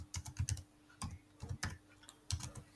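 Computer keyboard typing in short bursts of clicky keystrokes, several quick flurries separated by brief pauses, close and clear with no voices.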